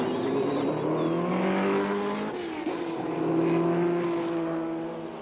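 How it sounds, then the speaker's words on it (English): A 1967 race car at Mosport during the Canadian Grand Prix starting up and revving, its engine note rising and wavering with a brief dip before climbing again, steady and moderately distant. "he's jumped into the car now, and he's going to attempt to start it up"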